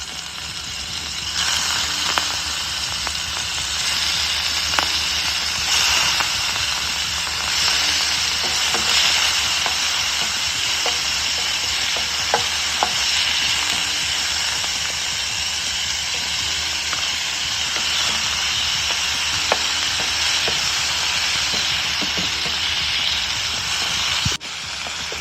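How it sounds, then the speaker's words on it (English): Shrimp fry in a hot oiled pan for shrimp fried rice, a loud, close, unbroken sizzle and hiss lasting throughout, dotted with sharp pops and crackles, with no voices. "so we're going to put our shrimp in it"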